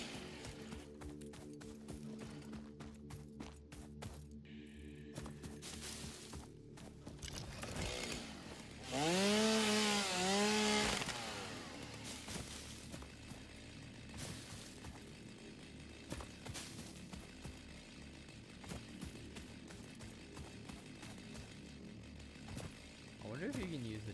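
A chainsaw in the game Satisfactory cuts down trees, its engine snarling in a loud burst of a few seconds in the middle, with quieter game sounds before and after and people chatting throughout.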